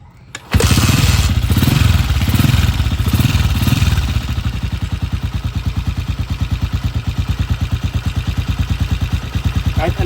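A Motorstar TMX 125 motorcycle with a charging fault starts up and runs, its engine loud and close, settling into a steady, rapid idle chug with an even pulsing rhythm.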